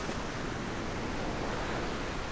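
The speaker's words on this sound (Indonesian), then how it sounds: "Ini ombaknya udah tinggi guys." High surf at Krokoh beach in Gunungkidul, Yogyakarta, roars as a steady, dense wash of breaking waves close by, with no gaps or voices.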